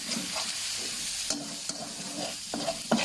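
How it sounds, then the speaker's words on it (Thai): Frog with curry paste being stir-fried dry in a pan, with holy basil and kaffir lime leaves to follow; a steady soft sizzle runs under several sharp scraping knocks of the spatula, with no talking. "เป็นการผัดแห้งๆนะครับ"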